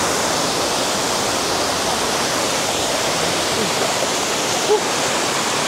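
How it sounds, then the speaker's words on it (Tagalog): A waterfall roars steadily and loudly up close, a dense unbroken rush of falling water with no voices. "Ito yung waterfalls."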